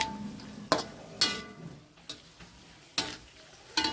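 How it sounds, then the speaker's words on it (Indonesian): Tempe orek being stirred with soy sauce in a pan, a series of about six sharp spatula scrapes and clacks against the pan at irregular intervals over a faint sizzle. "Aduk terus mah biar rata"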